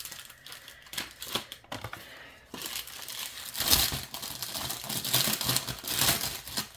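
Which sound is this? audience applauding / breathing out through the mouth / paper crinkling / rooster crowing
paper crinkling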